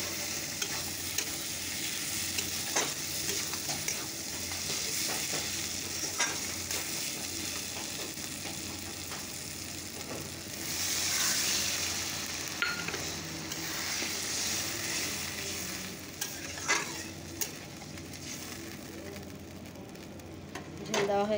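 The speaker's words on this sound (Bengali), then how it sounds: "তো চলো এবার ঝোল দিয়ে দেবো" Curry gravy sizzles and bubbles in a pan for egg curry, a steady close crackle with occasional utensil clinks, fairly quiet, with faint talk in the background.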